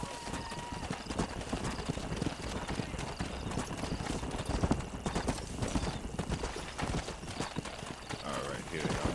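Horses walk with steady clip-clop hoofbeats in the Red Dead Redemption video game, a dense rhythmic patter heard throughout beside ambient game sound and voices talking.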